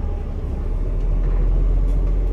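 A 12-ton city bus driving straight ahead, heard from inside as a steady loud low rumble of engine and road noise without talking.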